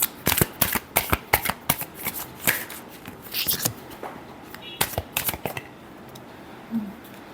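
Tarot cards shuffled by hand, a quick run of close, crisp riffling slaps and flutters that thins out and fades to quiet near the end.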